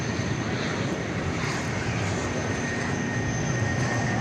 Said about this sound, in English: A350 1000 on its way to Doha.